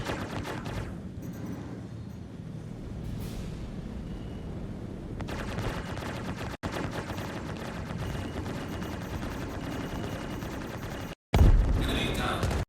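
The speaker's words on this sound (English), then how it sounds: "that explosion was awesome" A naval patrol combat video game produces a long, dense roar of gunfire and explosions, with sustained rumbling blasts broken by two sudden cuts and a loud burst near the end.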